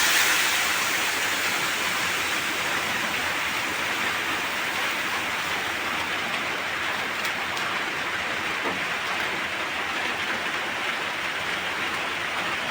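Hot water poured into a pan of stir-fried pancit bihon makes a loud, steady, close rushing hiss that holds evenly throughout, with no talk.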